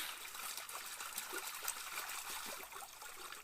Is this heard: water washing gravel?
yes